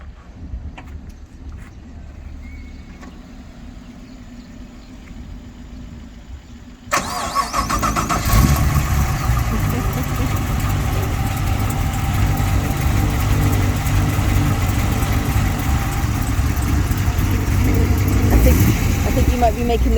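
A Volvo 242 with a swapped 6.2 LS3 V8 cranks and fires into a loud, deep idle after a quiet stretch, rumbling steadily under talk from people nearby.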